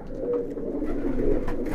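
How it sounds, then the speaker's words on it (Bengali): Large Kaldom pigeons in a loft coo in a low, continuous, throaty rumble that swells slightly. Several birds overlap close by, with no voices. "এই যে কবুতর"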